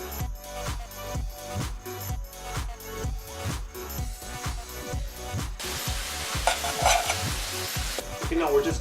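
Vegetables stir-fry in a hot pan with a constant sizzle and a fast, regular rhythm of tossing and scraping strokes, close and fairly loud, growing busier toward the end, with no talk.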